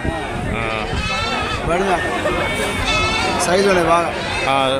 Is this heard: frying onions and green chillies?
no